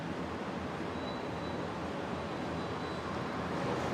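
Broad, steady roar of an airplane taking off from runway 01 right at Brisbane International Airport, a distant, even jet wash that holds constant for a few seconds with no voices.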